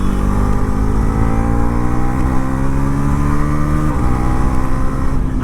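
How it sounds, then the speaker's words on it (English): A Bajaj NS 400 Z 350cc motorcycle runs loud and close, its engine note climbing steadily through gears with a sensor-based quickshifter, a brief dip in pitch marking a quick upshift before the revs build again, with no talking. "Just like that we can upshift and also do the downshifting."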